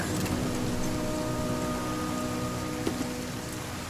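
Rain pours steadily in the survival video game The Flame in the Flood, a continuous dense hiss of drops on surfaces with a couple of faint low knocks, even in level throughout and with no voices.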